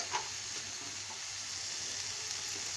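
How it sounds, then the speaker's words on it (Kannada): Curry with raw chutney fries in a pan, a steady close sizzle with faint stirring scrapes and no talking. "ನೋಡ್ರಿ ಇದು ಹಸಿ ಚಟ್ನಿ, ಇದ್ರೊಳಗೆ ಪಲ್ಯ ಸಂಗಟ ಫ್ರೈ ಮಾಡ್ತೀನಿ ರೀ"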